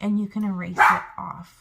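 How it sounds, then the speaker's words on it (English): A pet dog barks once, loud and close, cutting in midway through a woman's speech, followed by a shorter yip as she keeps talking. "Sorry about my dog."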